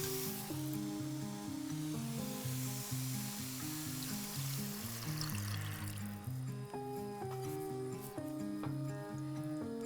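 Sauce hits a hot pan of lamb and eggplant, a steady sizzle and bubbling hiss running for several seconds beneath louder background music, with no talking.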